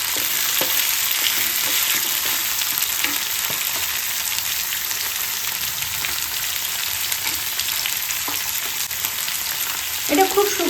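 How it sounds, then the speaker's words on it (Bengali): Green chilli, tomato, peas and other vegetables fry in hot oil for sabudana khichdi, giving a steady loud close sizzle with occasional light stirring scrapes and a few knocks near the end. "এটা আমি সব ভেজিটেবলগুলো একসাথে এবার ভেজে নেব"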